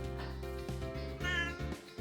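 A pet cat meows in a few drawn-out, tonal cries, close and clear over a steady musical background, with no talking.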